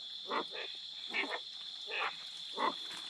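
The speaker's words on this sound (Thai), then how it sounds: "ได้ยินเสียงกบเสียงเครียดหลาย" Frogs croak in a forest at night, giving four or five spaced, moderately faint bursts over a constant high insect drone.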